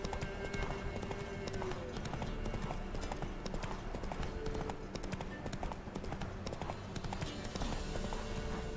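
Roach, a horse in The Witcher 3 video game, trots with steady clip-clop hooves, loud and continuous throughout, with a brief spoken voice and ambient game sound underneath.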